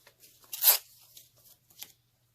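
A brown paper bag is torn by hand, one crisp ripping pull followed by a shorter second tear, close and quiet with no other sound around.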